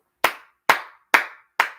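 Four sharp hand claps, close and evenly spaced about half a second apart, each a crisp slap with a short decay into silence.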